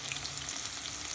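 Chopped onions and sliced green chillies fry in hot oil in a pan, giving an even, continuous close sizzle with light crackle and no voices.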